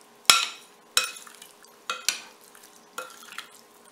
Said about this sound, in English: just mix it in to get all the seasoning incorporated